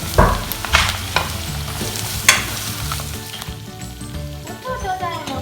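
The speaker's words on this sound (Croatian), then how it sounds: "Sada smo stavili na laganu vatru jednu sitno isjeckanu glavicu luka i malo ulja da se lijepo proprži." Finely chopped onion frying in a little oil over low heat, with a continuous close sizzle and crackle plus a few clattering stirs of a utensil against the pan.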